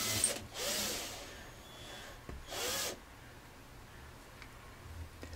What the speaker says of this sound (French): Alors j'ai fait mon repérage, je vais faire mes trous.